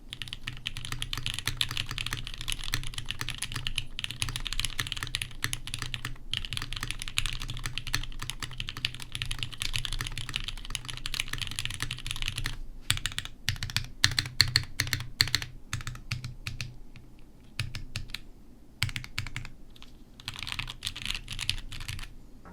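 Typing on an AL6 mechanical keyboard built with a PC plate, with rapid, dense clacking keystrokes close up that run almost continuously, thinning into scattered bursts and short pauses toward the end.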